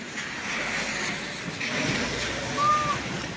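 Maritsa river flowing, a continuous broad rush of water heard outdoors, steady and moderately loud with a brief high tone near the end.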